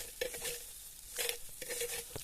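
Green chillies are crushed and fried on a griddle, with three separate bursts of scraping and stirring over a soft sizzle.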